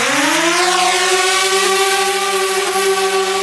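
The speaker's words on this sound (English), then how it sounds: "Amazon just launched the first drone drop in Phoenix, Arizona. It might sound like this outside your door soon." An Amazon delivery drone flies in Phoenix, Arizona, giving off a loud, steady whine. Its pitch climbs over the first second, then holds as a sustained harmonic buzz with no voices.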